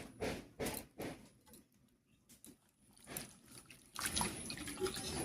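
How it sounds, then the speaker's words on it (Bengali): Freshly cut dheki shak fern greens being washed in water, with intermittent splashing and trickling near the start, a quieter pause, then fuller continuous swishing and running water toward the end. "ঢেঁকি শাকটা কেটে একেবারে পরিষ্কার করে ধুয়ে নিচ্ছি।"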